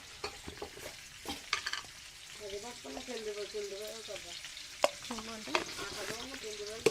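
Tomatoes with ginger-garlic paste, salt and spices frying and being stirred in a pan, a steady broadband sizzle broken by scraping stir strokes, with a voice talking intermittently over it.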